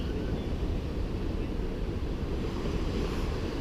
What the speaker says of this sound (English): there's a little bay here. Nice little beach.